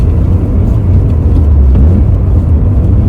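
An Alfa Romeo 145 Cloverleaf heard from inside the cabin, a loud steady low engine drone with road rumble as it drives along, without any distinct gear change standing out.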